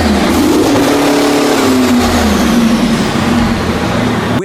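A diesel two-stroke V12 engine of 1,650 horsepower, formerly from a massive mining vehicle, running loud and close with a steady droning roar and a slight rise in pitch early on.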